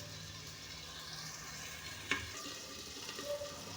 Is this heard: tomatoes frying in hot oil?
yes